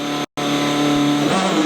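Sébastien Loeb's Citroën rally car pulling away on dry, dusty gravel: a loud, close engine roar climbing in pitch, briefly cut off before returning with tyre and gravel noise.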